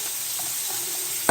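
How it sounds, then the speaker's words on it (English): Meatballs sauté in a pan with a soft, steady close sizzle, ending in one sharp clatter of a utensil. "Just sauteing balls, y'all."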